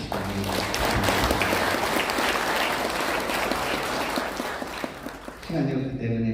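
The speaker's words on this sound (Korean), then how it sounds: "큰 박수를 한번 쳐주시기 바랍니다" Audience applause at a Buddhist prayer ceremony for provincial development held during a chrysanthemum festival, sustained loud clapping from a large crowd filling the room, tapering as a voice resumes over it at the end.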